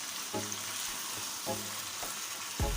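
Chicken and tinda curry stirred in a pan, a low steady sizzle with a few soft scrapes of the spoon at intervals.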